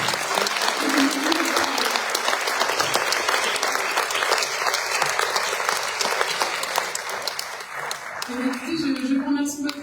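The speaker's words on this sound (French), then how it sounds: "je vous demande de les applaudir" A hall audience applauds the staff of a cultural centre at a season presentation, dense sustained clapping throughout with a voice speaking briefly over it near the start and again near the end.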